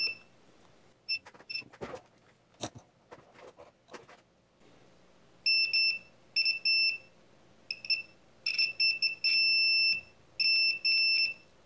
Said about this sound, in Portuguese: Vou colocar aqui o multímetro na escala de continuidade.